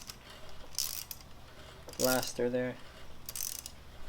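A nut breaking free on the strut of a 2012 Nissan Sentra during coil spring and strut mount replacement: a few sharp metallic clicks and ratcheting bursts, close and moderately loud, with a brief spoken phrase among them.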